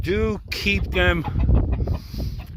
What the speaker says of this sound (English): They are now free-range chickens